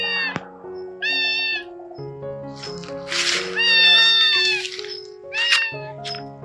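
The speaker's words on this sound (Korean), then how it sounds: "아기 고양이 다섯 마리" Five kittens abandoned on a mountain meow over and over, with several high, wavering cries that overlap, some close and loud. A voice is heard now and then.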